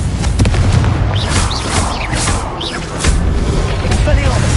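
A Confringo fire-blast spell going off in the video game Hogwarts Legacy, a loud booming blast over dense game noise, with voices and spell sounds around it.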